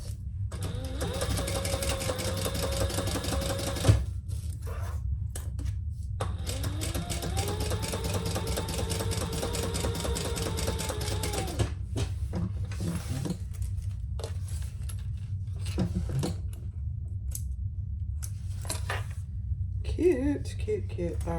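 A sewing machine runs in long steady bursts while stitching a seam on a Mini Traveler Sling, with a constant low hum and brief pauses between runs.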